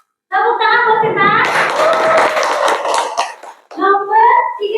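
Classroom of children clapping for a pupil named Sinta, a dense burst of hand claps lasting a couple of seconds, with kids' voices talking before and after.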